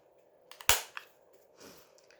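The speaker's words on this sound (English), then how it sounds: "Okay, we'll round our corners." A corner rounder punch snaps down through a paper journal card with one sharp, close click, followed by a few small handling rustles and taps.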